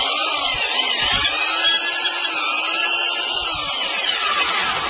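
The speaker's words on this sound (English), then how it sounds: "Alright, my trusty Craftsman sander." A 30-year-old Craftsman power sander running steadily, a constant high-pitched whirring hum, close and loud throughout with no pauses.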